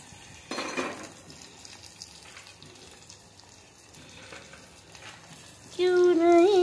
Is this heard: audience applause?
no